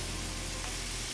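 Sous-vide pork chops searing in a hot pan, a dense, loud, continuous sizzle heard up close as the chops are turned over.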